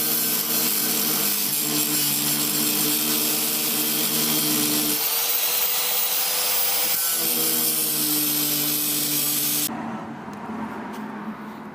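An angle grinder cuts through a car's lower control arm during rear suspension work, a loud sustained whine that shifts pitch as the disc bites into the metal, then drops off near the end.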